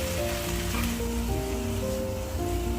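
Softened corn and a spoonful of honey stirred in a frying pan, giving a dense, even sizzle with soft scraping and tonal hum running throughout; no talk.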